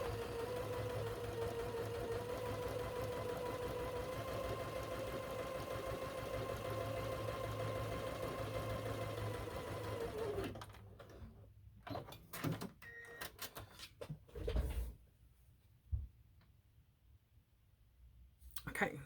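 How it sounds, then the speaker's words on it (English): A sewing machine runs in a steady continuous whir while stitching a quilt sampler block, then stops and gives way to scattered clicks and handling noises, with a voice speaking. "make sure I'm sewing just on that line."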